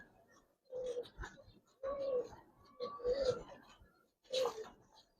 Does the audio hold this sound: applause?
no